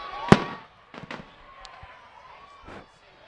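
Fireworks burst at a high school football game between Grantsville and Uintah, one sharp loud bang followed by a few smaller pops and crackles, with crowd noise and a commentator's voice underneath.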